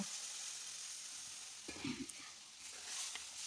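Fried taro and potato pieces for a hilsa fish curry sizzle faintly and steadily in the pan as salt, turmeric and cumin powder go in, with a brief burst of stirring scrapes midway.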